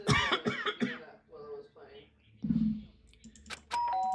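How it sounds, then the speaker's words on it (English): A doorbell chimes inside a video game, sounding near the end as a sustained two-tone ring after stretches of talk and coughing-like vocal sounds. "did I hear the doorbell?"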